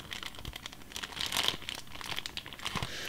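Thin plastic bag crinkled and torn open by hand, a continuous close crackling rustle with sharper crunchy bursts, loud and unbroken for about three seconds with no talking.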